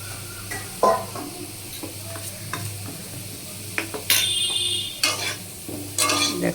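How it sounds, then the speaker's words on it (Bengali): Potatoes frying in oil in a pan while being stirred, a soft steady sizzle under a series of distinct scraping and clanking strokes of a spatula against the metal, close and clear with no talking. "দেখো আমার ভাজা আলুগুলো প্রায় হয়ে এসছে।"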